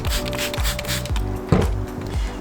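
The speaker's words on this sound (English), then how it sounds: "just keep spraying water until it's smooth" Several quick spritzes of water from a spray bottle hiss in a steady rhythm, close up, each burst short and bright, during wet sanding of a headlight.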